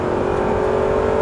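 Audi R8 engine pulling hard on a track during a driving course, a loud, close, sustained high-pitched roar with a steady tone throughout.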